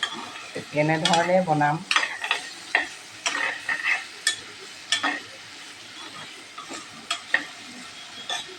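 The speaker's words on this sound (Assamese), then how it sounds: "পিঁয়াজ দি লৰাই দিছোঁ অলপ।" Onions fried and stirred in a pan for a pork dish, a utensil scraping and clacking in irregular strokes over a soft sizzle, with a brief spoken phrase early on.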